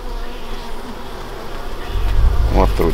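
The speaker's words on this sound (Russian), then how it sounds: "Они жудят особенно сильно." Honeybee drones buzz close by in a continuous drone that grows louder and deeper near the end as they take off, with a low rumble underneath.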